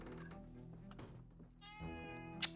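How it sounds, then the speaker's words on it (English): A cat meows in the video game Red Dead Redemption 2, giving a couple of short, faint mews against quiet game ambience, with a soft thunk near the end. "Hi, cat."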